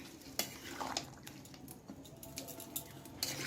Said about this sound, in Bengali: হলুদটা দিয়ে আমি ভালো করে নাড়াচাড়া করে দিলাম